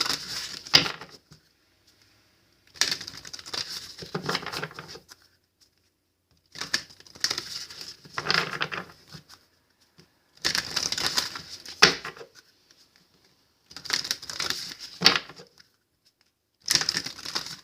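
Several bursts of crisp riffling and flicking as tarot cards are shuffled, each lasting a second or two with quiet gaps between them.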